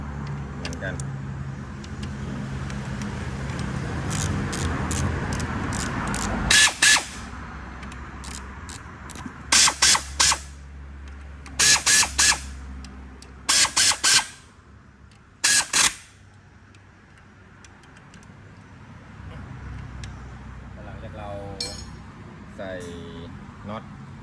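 Ratchet wrench tightening bolts on a Ford Focus Mk3 1.6 gearbox during a clutch fork and release bearing job, giving several bursts of sharp clicking separated by pauses, with a voice talking nearby.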